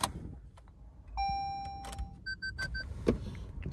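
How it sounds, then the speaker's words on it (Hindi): A 2024 Maruti Suzuki Fronx Delta Plus 1.2 engine starts up after sitting parked in the sun, a low rumble rising in the cabin alongside electronic dashboard chimes and a few clicks. "गाड़ी स्टार्ट हो गई है"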